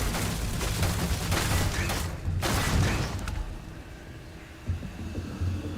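Turret gunfire in the sci-fi game Starfield: a dense burst of rapid shots for about two seconds, then a few scattered heavier reports amid game ambience, with no talking.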